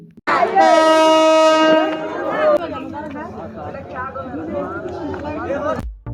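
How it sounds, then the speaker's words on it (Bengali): A train horn blares loudly at the start, then a rumbling train rolls in beneath people chattering nearby. "দীর্ঘ সময় অপেক্ষার পর অবশেষে চলে আসলো ট্রেন"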